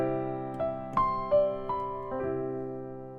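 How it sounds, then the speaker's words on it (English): Solo pop piano fill in 6/8 built on sixths with arpeggiated notes, played softly: about six gentle note entries over a sustained ringing chord, close and unaccompanied. "this one is a variation of using the 6th, but using a little bit of arpeggios in there"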